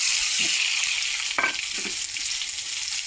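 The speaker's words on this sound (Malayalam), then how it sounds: "രണ്ട് സവാള അരിഞ്ഞു വെച്ചത് നമുക്കിത് ഈ വറുത്ത എണ്ണയിൽ തന്നിട്ട് മൂപ്പിക്കാം" Two sliced onions sizzle in hot frying oil with a loud, steady crackle, broken by a few scraping stirs of a spoon against the pan.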